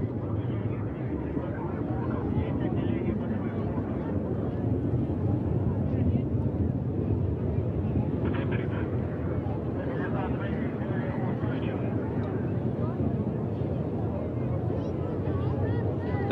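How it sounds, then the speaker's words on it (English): Russian rocket carrying the Progress 84 cargo ship to the International Space Station, its second stage engine firing after first stage separation: a steady, dense distant roar with wind-like rumble, continuous and unbroken throughout. "second stage engine up and running"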